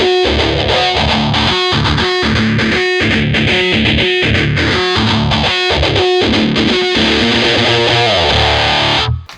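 Distorted electric guitar plays a loud, chugging riff with ringing harmonics, steady rhythmic palm-muted pulses throughout before cutting off at the end.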